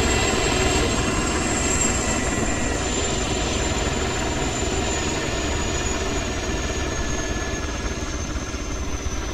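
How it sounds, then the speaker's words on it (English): A helicopter flies overhead in the ARMA 3 video game, its engine and rotors a loud, steady drone that holds for the whole stretch, with no one talking. "Gavin, the chopper is too loud!"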